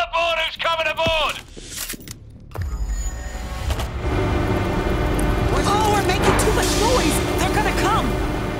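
Train from the World War Z video game starting up on its tracks, a heavy rumbling roar that builds and stays loud after an opening burst of shouting and effects, with screeching and distant noises layered over it.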